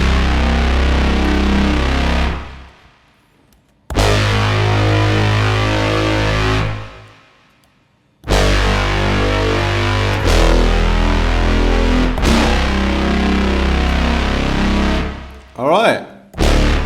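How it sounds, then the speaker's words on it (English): Dark brass synth patch built in Vital for sci-fi and horror, playing loud sustained chords cut by short silences, ending in a wavering, swelling sweep. "dark brass sound in Vital,"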